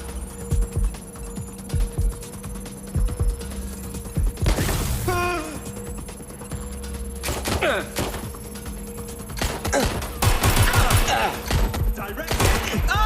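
Gunfire in the video game Watch Dogs: Legion comes as a few sharp bursts over a steady electronic hum and game music, with a scattered exchange of shots toward the end.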